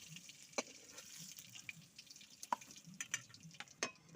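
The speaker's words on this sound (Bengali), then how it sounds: "চিংড়ি ভাজা তেলের পরে আলুগুলা ভেজে নেব" Potatoes frying in oil left over from frying prawns, with a faint, low sizzle broken by scattered sharp clinks and scrapes of stirring, close but quiet.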